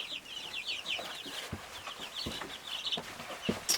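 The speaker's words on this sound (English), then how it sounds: "The breed of chicken that I have is a Rhode Island Red, so they're pretty hardy birds" Young Rhode Island Red chicks chirping in a brooder, a busy run of high peeping calls with a few soft clucks and light knocks, close and fairly quiet with no talking.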